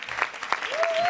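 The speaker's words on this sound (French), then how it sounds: "j'aimerais qu'on applaudisse Éléonore" Short burst of applause from an indoor audience honouring Éléonore, steady clapping throughout with a voice briefly heard over it.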